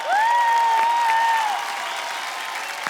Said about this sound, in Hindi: जोरदार तालियां मीनल जी के लिए